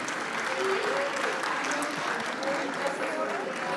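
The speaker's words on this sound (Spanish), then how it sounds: "Igualmente, un aplauso." Applause from attendees at a journal presentation event in Jalisco, a continuous moderate clapping with a voice talking over it.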